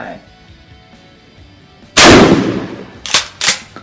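A Hatsan five-shot shotgun fires once at a target about ten meters away, one loud close blast with a decaying tail, followed by two sharp mechanical clacks.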